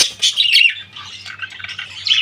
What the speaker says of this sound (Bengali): আমাদের আরেক জোড়া এই পাখি